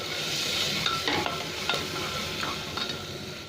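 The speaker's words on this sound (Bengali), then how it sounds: "মশলাটা 1-2 মিনিট ভালো করে ভেজে নেবো একটু" Salt, turmeric, cumin and coriander powder fry in a pan for mixed dal, with a low sizzle and a few scraping stirs of a spoon, close and fairly quiet.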